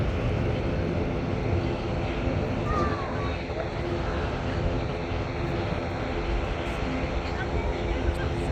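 An Airbus A330 arriving from Canada taxies at Manchester Airport, a loud, continuous jet engine roar that holds steady and close throughout.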